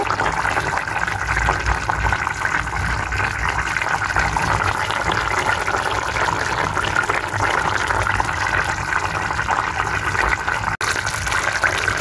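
Steady rushing of water poured continuously into a curry for gravy, several seconds of broad even splash with no speech over it.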